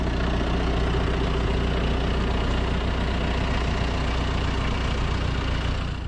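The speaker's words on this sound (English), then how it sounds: "Got the neighbor's big tractor, big cab tractor, AC, radio, big brush hog right here." A neighbor's big cab tractor with AC, a radio and a large brush hog attached idles steadily nearby, its low engine rumble constant and even throughout, with no talking.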